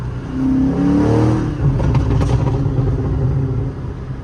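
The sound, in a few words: car accelerating with exhaust burble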